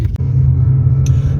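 Continental tyres carry a car around a test track at about 50 km/h, giving a steady, loud low road rumble and engine drone throughout with a couple of brief higher blips near the start and end.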